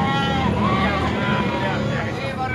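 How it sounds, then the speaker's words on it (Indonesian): Sheep bleat among the crowd at a busy goat market in Binangun, layered under constant chatter and general market noise. "Banyak domba-domba di sini."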